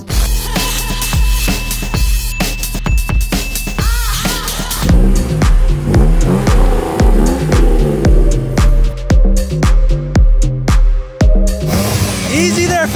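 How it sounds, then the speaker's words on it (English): An Acura NSX and an FD Mazda RX-7 rev hard before a no-prep drag race, with loud, rising and falling engine bursts that repeat and overlap while people talk over the noise. "Both these idiots are going to blow their cars up before they even race. Let's go. Rev off."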